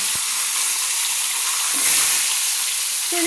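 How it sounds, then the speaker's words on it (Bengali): Katla fish heads frying in hot mustard oil give a loud, dense, continuous hiss and crackle close up, steady for the whole stretch with no voices. "এবার মাছের মাথা দুটো আমি ছেড়ে দিচ্ছি ভেজে নেওয়ার জন্য"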